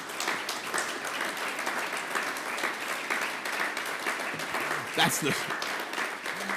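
An audience applauds throughout at a politician's speech in Manchester, a steady wash of many hands clapping in a hall, with a brief voice cutting in near the end.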